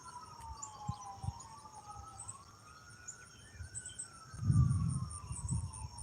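A faint ambulance siren wails and glides up and down in the distance on a highway, over a steady drone of insects and occasional low thumps nearby at a lake.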